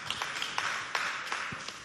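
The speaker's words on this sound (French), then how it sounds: "on applaudit bien fort Ashta Tidjani" At a school competition between two Chadian schools, an audience claps for a student being called up, fairly faint, continuous applause with scattered sharper hand claps, heard from some distance.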